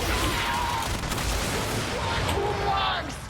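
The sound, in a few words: Athodai hand cannon firing in video game Warframe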